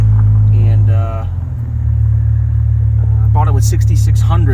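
A low-mileage 2001 Dodge Viper GTS ACR, a second-generation car, rumbles steadily under way, its deep engine drone loud and constant while someone talks over it.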